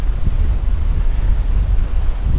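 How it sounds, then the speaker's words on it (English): Strong wind at a rocky jetty in Freeport, Texas, buffets the microphone with a loud, continuous low roar, gusting unevenly throughout with no voices. "super strong winds right now"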